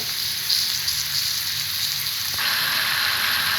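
Small pieces of beef hit hot oil in a pan for beef cholar ghugni and sizzle loudly and steadily up close, the frying swelling a little more intense partway through, with no voices.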